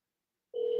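A telephone ringback tone begins abruptly partway through, a steady electronic hum with a higher overtone, played through a speakerphone in a quiet room with no talk.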